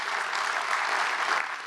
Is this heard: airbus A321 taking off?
no